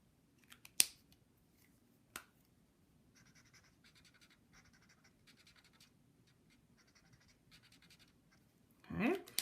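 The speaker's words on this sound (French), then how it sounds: "Et je vais dessiner un petit forêt." A marker draws a small forest on a paper anchor chart, making short scratchy strokes in quick bursts with a couple of sharp taps, and a voice briefly speaks near the end.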